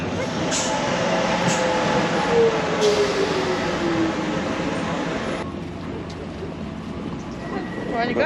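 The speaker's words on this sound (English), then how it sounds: "Zack, do you want to drive the train?" A Docklands Light Railway train in London runs steadily, with continuous rumble and track noise and a rising whine fading in and out, no voices.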